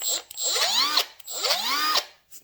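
Small cordless battery drill boring into metal on a Harley handlebar bag mod, two sustained high-pitched whirring runs with rising and falling pitch, each ending abruptly, close and loud with no talk.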